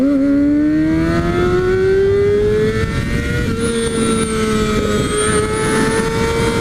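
A Kawasaki Ninja ZX-6R sport motorcycle engine screams steadily upward in pitch, shifts, and climbs again, loud and close with a constant roar and no voices.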